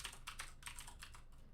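Quick, steady keystrokes on a computer keyboard, typed in short bursts at a faint, close level, with no one talking.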